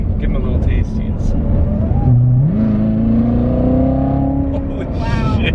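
A Z06 Corvette supercar engine revs up loudly and close, its pitch climbing steadily in a rising whine after a brief dip, while people talk over it.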